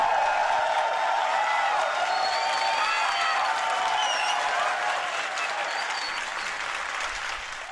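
Sustained applause from an audience in a scene of a Korean film, a dense, even wash of clapping held loudly throughout and fading slightly toward the end, with faint cheering mixed in.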